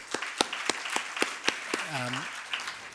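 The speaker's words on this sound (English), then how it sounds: "So a warm round of applause for all the great women tonight." Scattered applause from the audience at the Women of the Future Awards Southeast Asia 2024 ceremony: separate, fairly sparse claps at an uneven rhythm, with a brief vocal exclamation partway through.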